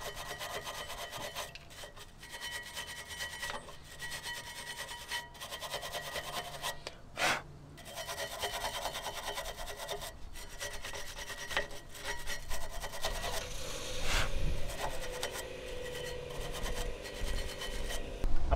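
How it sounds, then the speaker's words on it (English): A BMW rear brake caliper bracket is scrubbed by hand, producing steady rasping, rubbing strokes in a continuous rhythm, close and fairly loud, with a few sharp knocks and rising intensity toward the end. "Time to clean the bracket."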